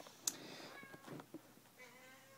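Cat meowing close by, a short clear meow within quiet room noise, with a brief sharp click early on.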